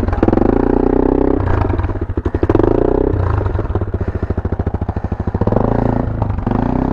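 Dirt bike engine on a tight green lane in Surrey, close and loud, with a throbbing, pulsing exhaust note that surges and rises in revs through the run.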